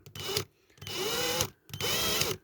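Short bursts of a drill working into the metal base plate of a diecast model car, three spurts of whirring with the pitch bending as the bit bites, separated by brief pauses.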